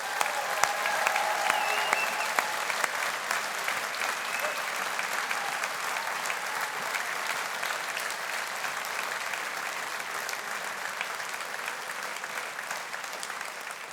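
Long, steady round of applause from a graduation audience celebrating graduates of the humanities and social sciences faculty, dense crowd clapping at moderate distance that holds evenly and eases slightly toward the end, with no talk over it.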